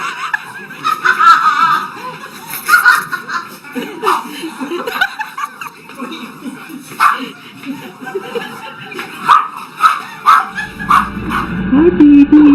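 A dog barks and yips repeatedly in short bursts close by, mixed with chuckling and laughter, with a higher whining tone rising near the end.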